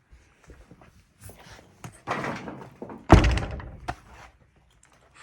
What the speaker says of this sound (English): I bought this really cool lever lock gate latch. It goes all the way through to both sides.